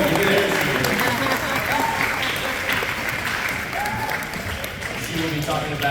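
Sustained audience applause at a school football and cheer awards night greets the cheer coach's entrance, steady and full throughout, with voices talking and calling over the clapping.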